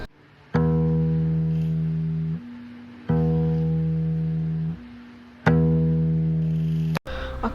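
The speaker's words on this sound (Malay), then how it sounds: "aku dah dengar macam bunyi petikan gitar yang tak berirama" A guitar is plucked in slow, irregular strums, each chord ringing out and decaying before the next, heard alone in a quiet room with no talking.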